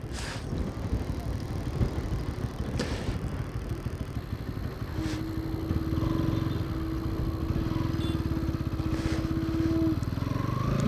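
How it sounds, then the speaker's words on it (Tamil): An NS200 motorcycle engine drones steadily and close up throughout while riding near Dhanushkodi, a rough continuous rumble with a faint whine rising partway through. "பைக் எடுத்துகிட்டே போவோம் உள்ள."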